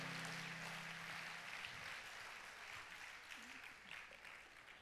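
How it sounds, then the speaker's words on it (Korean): Applause from a gathered audience at the opening worship service of a mission conference, a broad steady wash of clapping that is quiet overall, with faint voices beneath. "박수 부탁드립니다"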